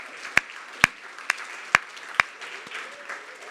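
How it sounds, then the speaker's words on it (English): At a mental health carers forum, a few sharp, separate claps ring out about every half second for carer peer workers, over a low murmur of room noise. "can we give a big round of applause to our carer peer workers?"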